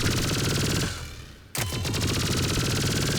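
Geth Plasma SMG firing in Mass Effect 3, a rapid stream of sharp plasma shots in a long burst, briefly pausing, then resuming at the same fast rate, loud and close.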